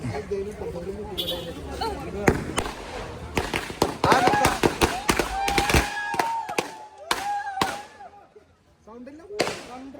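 Firecrackers burst at a wedding in quick, irregular bursts of sharp cracks and pops, close by, while people chatter and shout over them.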